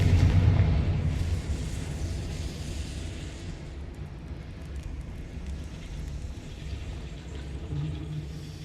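A Confringo fire spell blast in Hogwarts Legacy: a heavy low boom at the start that decays into a long rumbling roar, with no talking.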